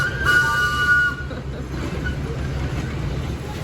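An amusement park train at Indiana Beach rumbles steadily nearby, with a brief whistle-like tone near the start and low clattering continuing underneath.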